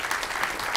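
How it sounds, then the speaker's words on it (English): A burst of dense, sustained audience applause at a Black History program, many hands clapping together at an even, fairly close level with no talk. "Let's give them another round of applause."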